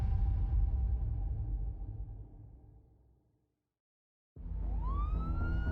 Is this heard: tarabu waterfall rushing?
no